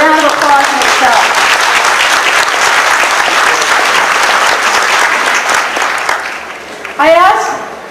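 An audience at a Sun City 30th anniversary event claps loudly and steadily for several seconds before the applause thins and fades, followed by a brief voice at the end.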